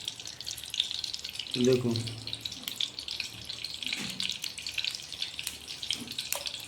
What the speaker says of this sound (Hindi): इधर घी डाला जा रहा है